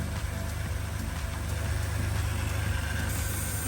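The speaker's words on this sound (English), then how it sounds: "So I fired up the V12 and waited for it to get warm." A Ferrari 456 V12 engine idles while warming up, giving a steady, continuous low rumble with an even hum and no change in revs across the few seconds.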